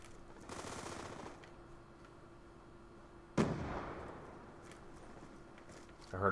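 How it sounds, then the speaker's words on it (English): A single sharp bullet shot in Black Ops 2 cracks out mid-clip, loud and sudden, followed by a decaying burst of noise, with quieter ambient game sounds and a faint hum before and after. "I heard a bullet. I don't know where it came from"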